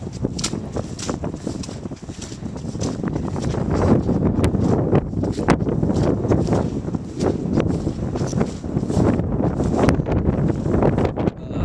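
Strong wind blowing outdoors on a farm, gusting and buffeting the microphone in loud, continuous rumbling bursts with no talking.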